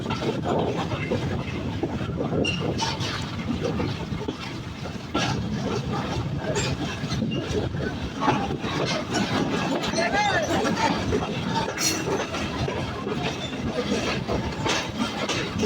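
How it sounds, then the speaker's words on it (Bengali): Nakshikantha Commuter train pulling into Pachuria Junction station, a steady close rumble with rattling wheels and faint squeals running throughout, with speech over it. "আমাদের নকশিকাঁথা কমিউটার ট্রেন 1 ঘন্টা 3 মিনিট বিলম্ব নিয়ে পাচুরিয়া জংশন রেল স্টেশনে প্রবেশ করলো"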